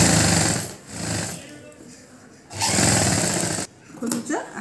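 Sewing machine stitching the collar of a school uniform coat, running in loud bursts with short pauses between them.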